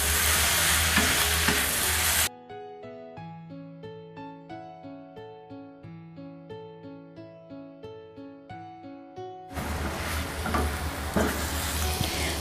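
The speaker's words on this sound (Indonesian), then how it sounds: "Sambil diaduk rata seperti ini" Bitter melon and egg, seasoned with pepper and oyster sauce, sizzle and get stirred in a pan over high heat. Dense frying hiss fills the start and end, while a stretch of melodic music covers the middle.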